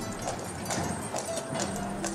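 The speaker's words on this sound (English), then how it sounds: "Take a tranquil ride on the world-famous horse tram" Horse hooves clip-clopping at a steady walking rhythm as a horse-drawn tram moves along, moderately close with faint background noise.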